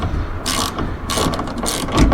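A ratchet wrench clicks in quick bursts as it backs out the tail light bolts on a Nissan Frontier pickup, three or four close, crisp runs of ratcheting separated by short pauses.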